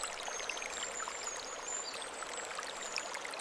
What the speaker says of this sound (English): Treated water fills the new environment.